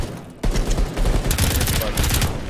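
Gunfire from the video game Earthfall breaks out after a brief lull, rapid repeated shots in a dense burst that continues steadily.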